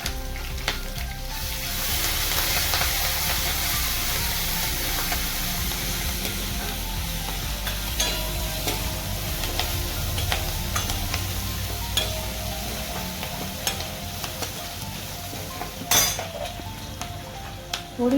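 Curry leaves, fenugreek seeds and ginger-garlic paste hit hot oil in a pan, giving a steady close sizzle and crackle that runs throughout, with occasional clinks of a utensil against the pot.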